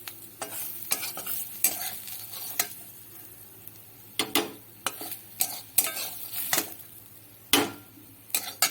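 Fried onion and garlic tempering for dal is stirred in a pan, with repeated sharp spoon clinks and scrapes against metal over a faint, continuous sizzle, close up.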